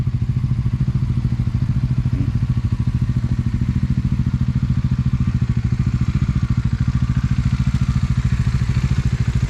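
A motorcycle engine runs at a steady idle close by, with a loud, even low thrum and rapid regular pulsing that carries on without a break.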